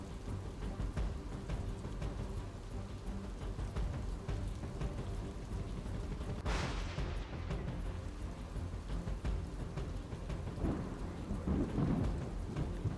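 Heavy monsoon rain pours down in Navsari, Gujarat, after six inches fell in four hours: a dense, constant roar of rainfall with a rumble of thunder and a splash-like surge partway through, no voices.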